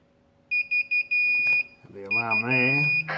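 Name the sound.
INKBIRD ITC-308 temperature controller high temperature alarm beeping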